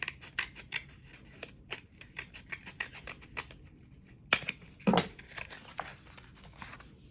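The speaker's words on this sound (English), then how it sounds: "when I've got my little flat tube here, I'm going to cut it open just halfway" Scissors snipping through a flattened toilet paper tube, a quick series of crisp close-up cuts and rustles with a couple of louder snaps near the end.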